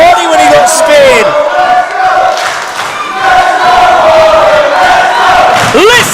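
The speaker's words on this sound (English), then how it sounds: "Listen to this crowd!" A pro wrestling arena crowd roars and cheers loudly during a championship title match, with whoops and yells surging in waves, briefly dipping before swelling again, close and overwhelming.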